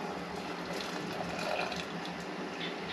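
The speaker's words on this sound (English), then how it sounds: "we grab the boiled kettle and in goes the water" Boiled water pours from a kettle into a cast iron pot over a campfire, a steady rushing, splashing flow that holds for the whole stretch at close range with no talking.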